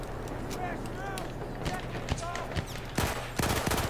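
Automatico submachine gun firing in the Battlefield 1 video game: sharp rapid bursts of automatic gunfire, with a loud volley near the end, under a person speaking.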